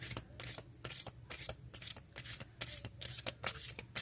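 A deck of oracle cards being shuffled by hand, a quick series of riffling bursts roughly every half second, close and soft, with no talking.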